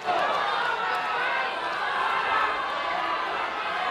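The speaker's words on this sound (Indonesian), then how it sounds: "kita berikan tepuk tangan untuk paslon nomor urut 3" A crowd at a Palembang mayoral candidates' debate keeps up steady, dense applause mixed with murmuring and chatter, broad and moderately loud throughout.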